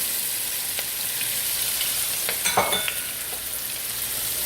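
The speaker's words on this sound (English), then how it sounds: "I'm going to stir that up a little bit. With that stirring," Onions and chopped garlic fry in butter outdoors in the rain, a steady close sizzle with a few scraping stirs and light clinks partway through, no voices.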